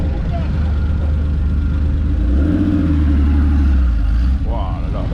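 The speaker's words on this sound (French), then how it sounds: "le bruit des anciennes voitures, c'est pas du tout pareil que maintenant" An old car's engine revs up, a low rumbling roar that swells in the middle and then drops back, heard close by beneath a person talking.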